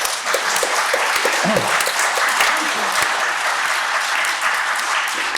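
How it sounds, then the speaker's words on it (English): Steady applause from an audience thanking the panel at an economics discussion on improving UK public services, dense and continuous clapping filling the room with a few voices mixed in. "You can give them a round of applause."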